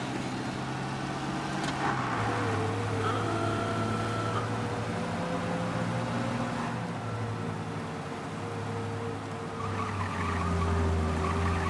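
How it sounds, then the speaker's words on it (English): A car in a Mafia video game police chase drives fast with a steady engine drone that rises and falls, tyres squealing and skidding at moments, loud and continuous, no speech. "You lose them by driving real fast and getting clear of them"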